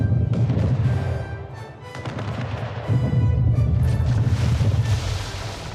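Ship cannons fire in a naval battle in the game Anno 1800, a dense barrage of heavy booms rolling into each other, loud and continuous with a brief dip in the middle before pounding again.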